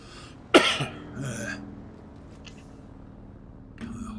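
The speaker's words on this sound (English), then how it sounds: "All of a sudden I got a dose of the coughs." A sharp burst of coughing near the start, a throaty rasp, then quiet, with another short cough-like sound at the end.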